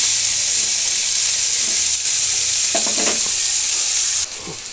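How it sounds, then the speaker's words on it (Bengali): Bitter gourd stir-fried with salt in a pan: a steady, loud sizzle and hiss of frying runs throughout, with a few soft scraping stirs of a spatula near the middle, and no talking. "উচ্ছেটা নাড়াচাড়া করতে করতে অল্প নুন দিয়ে দিচ্ছি এর মধ্যে, দিয়ে উচ্ছেটাকে এবার আমি ভালো করে নেড়ে চেড়ে নেব।"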